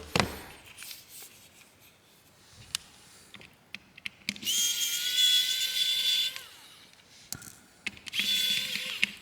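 Small screws come out of a Vortex J24 phone during a teardown: scattered clicks and taps, then two sustained whirring bursts from a small power driver, close by with no speech.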